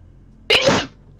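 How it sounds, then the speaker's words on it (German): A single sharp human sneeze, close and loud, bursting in abruptly and trailing off within about half a second, heard alone against quiet room tone. "Gesundheit!"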